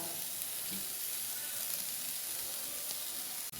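Finely chopped drumstick pods frying with coconut in a pan for thoran, a steady quiet sizzle and hiss that continues evenly throughout with no talking.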